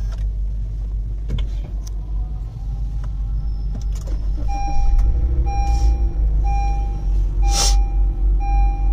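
Honda BR-V 2020 switched on with its push start button inside the car, a low hum under a series of short electronic chimes and brief mechanical clicks, close and moderately quiet.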